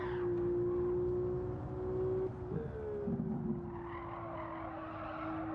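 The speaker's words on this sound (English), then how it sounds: "I guess it's like one of these fake engine noises, kind of like the AMGs do now as well" A Hyundai Elantra race car in Gran Turismo 7 drones with a synthetic, steady engine tone, dipping briefly as tires skid and squeal, then holding its buzzing note again.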